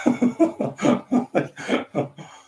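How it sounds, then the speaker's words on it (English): A single person coughs in a rapid, rhythmic string of about ten harsh bursts, close up, with no talking. "You can't stop with coughing."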